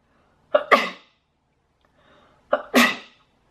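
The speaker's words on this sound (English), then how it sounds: "Oh, I need to sneeze." Two sneezes a couple of seconds apart, each a quick sharp intake followed by an explosive burst, close and loud in an otherwise quiet room.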